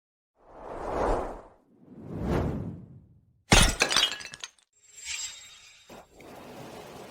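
A porcelain cup smashes in a villa, preceded by two swelling whooshes, then a sharp crash with bright shattering fragments and a few trailing clinks and tinkles that fade out.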